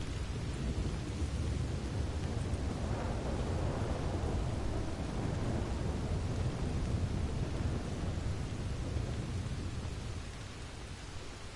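Thunder rumbles through a rainstorm in Red Dead Redemption 2, a long, dense low roar over steady rain that fades slightly near the end.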